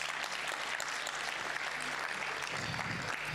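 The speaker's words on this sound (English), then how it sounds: "Can you give yourselves a round of applause?" An audience at an e-learning summit claps steadily, a dense wash of applause from a room of moderate size that holds evenly from start to finish and stays fairly quiet overall.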